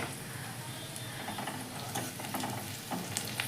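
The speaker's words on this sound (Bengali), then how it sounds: "দেখো পেঁয়াজটা আমি ভেজে নিলাম।" Onions frying in a pan give a soft continuous sizzle with occasional scraping stirs, low in level and without voices, for a few seconds.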